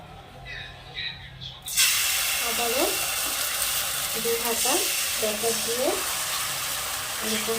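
Patishapta crepe batter frying in oil in a pan: a quiet start, then a sudden, steady sizzle and hiss that runs on, with a few faint short tonal chirps layered over it.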